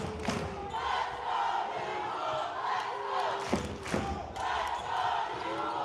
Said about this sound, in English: That burst of energy bringing the crowd to life here, cheering on the Nuxalk at Mauki.